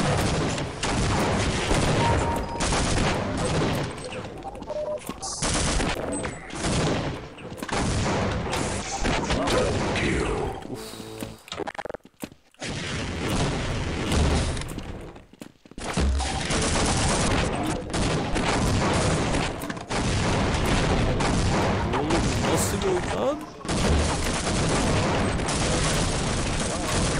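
Shotgun fire in the Half-Life video game: dense, loud bursts of blasts and impacts that keep coming almost without pause, broken by one short quiet gap.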